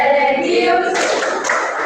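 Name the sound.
class clapping the PPK clap chant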